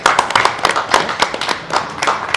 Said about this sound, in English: let's keep the applause going for our great panel